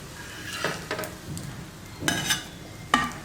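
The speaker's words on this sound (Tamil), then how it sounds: "ப்ரெட்டு முட்டை வச்சு நான் ரோஸ்ட்டு பண்ணேன்" Bread and egg roasting in a pan give a soft, steady sizzle with a few scraping stirs and metallic clinks from a utensil against the pan, fairly close and quiet, with no talking.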